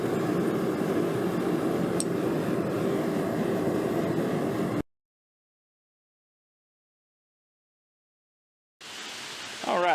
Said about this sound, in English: It's raining like crazy right now